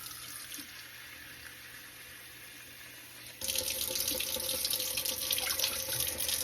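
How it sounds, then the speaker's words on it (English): Cold tap water runs into a container of rinsed sushi rice. A quiet stretch is followed by a sudden louder, steady splashing stream. "And I'm going to add 1 3/4 cups of water to this."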